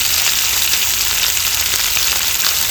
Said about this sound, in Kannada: ಒಂದು 2 ಸ್ಪೂನ್ ಹಾಕ್ಕೊಂಡು ಫ್ರೈ ಮಾಡಿಕೊಂಡ್ರೆ ಆಯಿತು